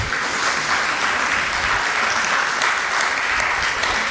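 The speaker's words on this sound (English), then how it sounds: "You can clap." An audience at a spiritual talk on Sri Sathya Sai Balvikas breaks into steady, dense applause, loud and continuous for several seconds with no voices over it.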